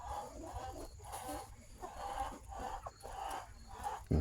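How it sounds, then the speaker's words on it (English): Several chickens cluck steadily in a busy, continuous chorus, with a sudden louder noise at the very end. "Those are some happy chickens."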